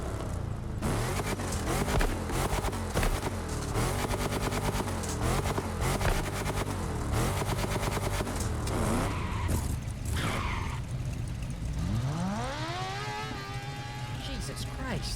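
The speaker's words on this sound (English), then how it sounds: "the final engine swap is the V8 High Riser engine" V8 High Riser engine swap in the racing game The Crew Motorfest, revving and shifting through gears with tire skids near the end, loud and continuous under speech.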